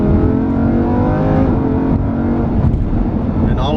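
The engine of a 2015 Lamborghini Huracán LP610-4 roars loud and close as it revs through downshifts, a rich, continuous, harmonic growl that rises and falls without letting up.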